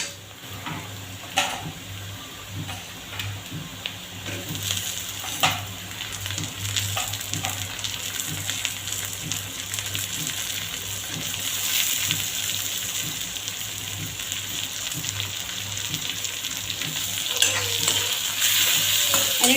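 Chopped onion and tomato fry in a pan with a steady broadband sizzle, while a spoon stirs through them in repeated soft scraping strokes and occasional clinks against the metal. No one speaks.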